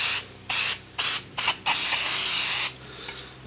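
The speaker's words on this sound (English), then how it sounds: "I'm going to get my contact cleaner and I'm just going to spray this." Several hissing bursts of an aerosol contact cleaner spray on a PC power supply fan, short puffs followed by one longer steady blast, close up and loud, with no talking.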